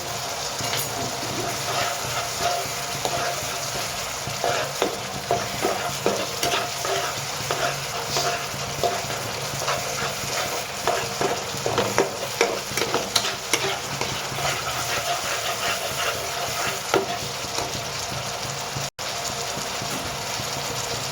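Egg masala frying in a pan with oil, salted and roasted well, steady sizzle under repeated scraping stir strokes throughout, close and fairly loud, no talking.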